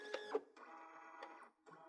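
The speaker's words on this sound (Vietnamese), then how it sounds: "Các bạn đã nghe thấy tiếng khởi động của máy rồi" An HP Scanjet Pro 3500 f1 office scanner powering on gives off faint mechanical whirring and motor hum in a few short bursts with brief pauses, quiet and close, with no talking.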